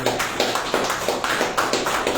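A church congregation claps in steady, even rhythm, about four claps a second, sustained and fairly close, with no voices standing out over it.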